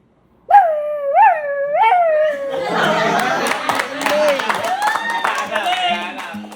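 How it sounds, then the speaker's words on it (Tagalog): A dog on command lets out a few rising, wavering howl-like whines, then a long, loud stretch of yowling and yelping. Clapping and voices are mixed in beneath it. "Paano yung tahol ng gutom?"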